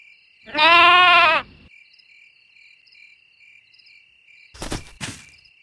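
A single sheep gives a loud, wavering bleat lasting about a second, followed by a low nighttime hum and faint chirping, then two short, sharp knocks near the end.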